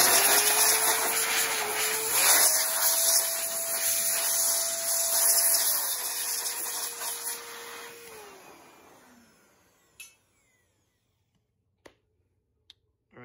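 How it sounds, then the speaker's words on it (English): An electric air duster blasts dust out of a PS5 console, a loud, steady high-pitched whine with a rising and falling motor tone for about nine seconds before cutting off, then a few faint clicks in near silence. "I'm gonna use it just to blow this really quickly, remove the dust inside the PS5"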